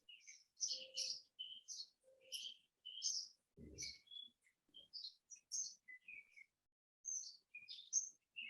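Birds chirp outdoors in a steady run of short, bright calls and tweets, faint and distant, with brief pauses and one soft low thump partway through.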